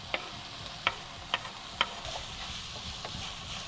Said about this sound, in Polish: Tu się nam smaży.